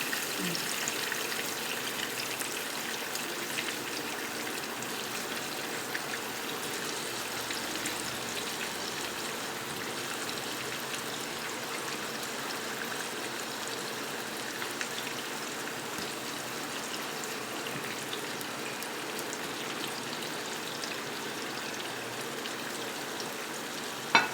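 Stuffed brinjals (eggplants) cook in a pan with a steady, soft sizzle and gentle bubbling, a constant low hiss running throughout with no voices.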